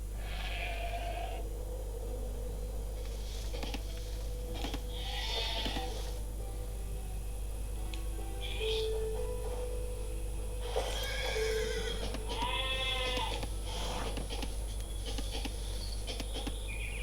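Sheep bleating in a medieval real-time strategy game, several separate bleats and a horse-like whinny rising over a steady low background hum, spaced across the stretch without any voices.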